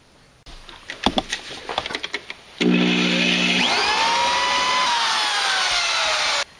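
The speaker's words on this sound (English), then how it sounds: "We'll get these two holes drilled." A power drill bores holes through a steering box reinforcement plate bolted to a Jeep Cherokee XJ frame. A few short clicks and knocks come first, then a loud, steady, close whining drill run lasting several seconds before stopping abruptly.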